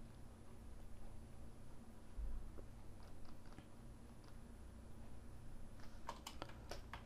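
Someone presses the shift key on a computer keyboard while modeling in ZBrush: scattered faint clicks over a low steady hum, with a quick cluster of sharper key taps near the end.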